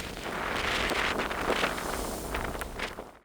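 Steady gusting wind from a depression storm with heavy rain in Suigam, Banaskantha, Gujarat, roars and buffets the microphone for a few seconds, loud and close, then drops off abruptly.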